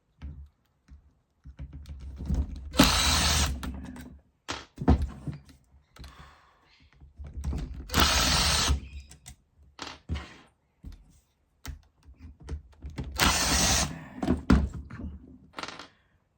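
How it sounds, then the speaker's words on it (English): Unscrewing the four head screws on a dirty, tight Makita DGA452 18V cordless 115mm angle grinder: close bursts of metallic screwdriver clicks and scraping, broken by pauses and small thunks of parts being set down. "Just unscrew the 4 screws on the head."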